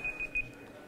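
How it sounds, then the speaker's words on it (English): A timer beeps three times in quick succession, short electronic tones in a steady rhythm at moderate loudness, over the quiet hum of a room. "My timer."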